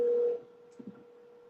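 A single short phone ringback tone sounds as an outgoing call goes unanswered. It is a clear steady beep that stops after a moment, leaving faint low background noise.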